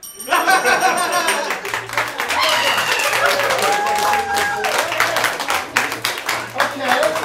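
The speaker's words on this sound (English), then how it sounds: "Judging by that applause" An improv comedy audience at a Whose Line show in St. Pete bursts into loud, sustained applause and crowd noise, many hands clapping close and dense while a voice and a few tonal sounds come through underneath.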